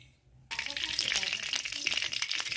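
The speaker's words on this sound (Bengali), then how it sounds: "গ্যাসটা গরম হয়ে গেছে, এর মধ্যে আমি সর্ষের তেল দিয়ে দেবো।" Mustard oil hits a hot wok and bursts into a loud, crackling sizzle that starts suddenly and continues steadily after a quiet moment.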